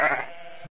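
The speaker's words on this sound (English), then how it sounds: "Sheep." A single sheep bleats once, close and clear, in a short wavering cry that stops abruptly, with no other sound around it.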